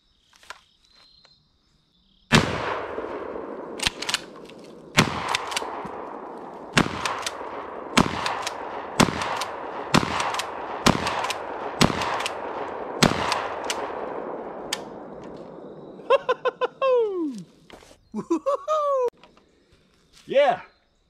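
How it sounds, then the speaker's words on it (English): A Rock Island Armory VRPA40 shotgun fitted with a 9-round magazine fires about a dozen loud, sharp shots in steady succession outdoors, each with a short ringing tail, before birds chirp in the quiet after. "let's shoot"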